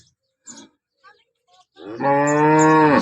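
A freshly calved dairy cow lets out one loud, close, drawn-out moo after a few faint scattered sounds.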